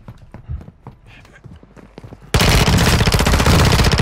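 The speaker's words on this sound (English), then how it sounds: "Yeah, he's firing." Rapid bursts of automatic gunfire in a battle royale shooter game, loud and dense after a quieter stretch of footsteps and small sounds, sustained and rattling until the end.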